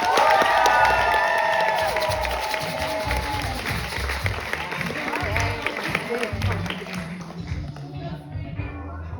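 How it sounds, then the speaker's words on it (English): A poetry slam audience applauds and cheers for a poet, with loud dense clapping and scattered whoops that slowly thin and fade toward the end. "Everybody give a round of applause"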